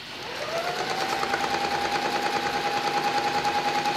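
A Pfaff Hobby 420 sewing machine stitches steadily, its fast rhythmic mechanical chatter running loud and close from start to finish, with no voices.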